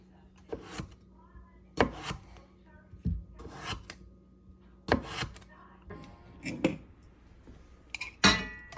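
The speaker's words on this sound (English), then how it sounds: "I'm going to probably chop a few potatoes to go with it." Home-grown potatoes being chopped with a knife on a cutting board, a series of sharp, irregular chops and scrapes spaced a second or so apart, close and fairly clear, with faint background noise in a kitchen.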